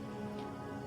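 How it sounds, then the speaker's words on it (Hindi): Steady, soft rain hissing evenly across a broad band, a faint continuous patter of drops with no voices, spread over the whole moment. "धीरे धीरे बारिश शुरू हुई।"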